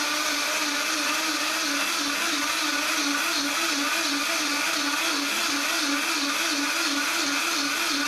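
A Vitamix Pro 750 blender runs continuously, a loud whirring motor with a steady pulsing hum and bright grinding hiss, unbroken for the whole stretch.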